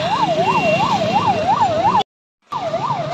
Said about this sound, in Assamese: এম্বুলেন্স কাৰোবাৰ কি হ'ল